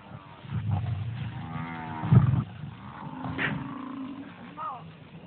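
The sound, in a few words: distress calls of a dying calf attacked by lions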